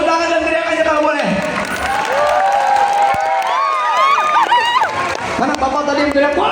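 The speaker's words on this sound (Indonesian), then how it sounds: "Tepuk tangan dan teriak aja kalau boleh." A circus audience claps and shouts in a loud, sustained burst, with whoops and high yells rising over the applause while a voice speaks over the crowd.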